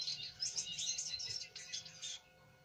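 A pet zebra finch sings a quick, busy run of high chirps and buzzy notes for about two seconds, close to the microphone against a quiet room, then falls silent.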